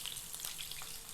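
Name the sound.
pastured pork shoulder searing in hot oil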